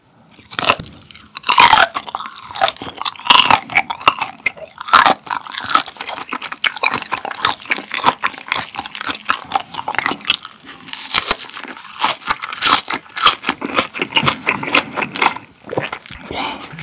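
Whole raw gizzard shad with its bones is chewed up close, giving loud, crisp crunching and wet mastication in an irregular rhythm, with no talking.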